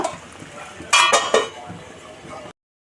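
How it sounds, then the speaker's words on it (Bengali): A karahi with mixed dal is lifted off and set down, a few sharp metallic clanks in quick succession against a quiet kitchen background, then silence. "এই কড়াইটাকে নামিয়ে নিব আপাতত"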